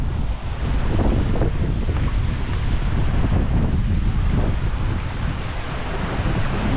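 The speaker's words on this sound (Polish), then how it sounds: "Przed chwilą tak wiało, że prawie czapkę nie zdjęło." Strong mountain wind gusting over the top of a waterfall on a Bulgarian mountain trail near Vratsa, a loud, steady roar buffeting the microphone with low rumbling surges throughout, no voices.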